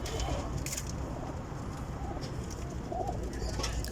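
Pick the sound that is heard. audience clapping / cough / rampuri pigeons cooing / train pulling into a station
rampuri pigeons cooing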